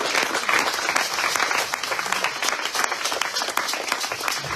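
A church congregation applauds and cheers for Jesus, a dense, steady wall of loud clapping with crowd voices mixed in, sustained throughout without a break.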